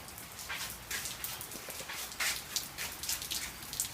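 Rain falls outside a garage during a barbecue, a soft steady patter with scattered brighter drips and splashes, fairly faint and unbroken.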